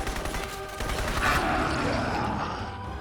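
Dense gunfire from the video game Crysis, a continuous rattling fusillade of rapid shots that holds steady and loud for the full few seconds with no talking over it.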